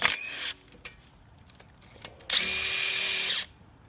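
A power tool zips off the 14 mm front brake bolts on a 1996-2001 Toyota Camry, with a short loud burst of whirring followed by a longer, steadier run a couple of seconds later.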